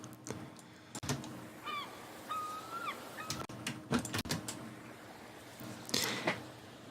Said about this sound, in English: on freesound.org, I think, we found a binaural beach recording